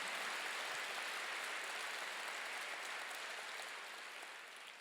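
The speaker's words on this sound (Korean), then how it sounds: "깨달아서 박수 좀 크게 쳐보세요" A church congregation applauds during a Korean sermon. The clapping is dense and continuous, a steady wash of many hands that stays loud and eases slightly toward the end, with no voices over it.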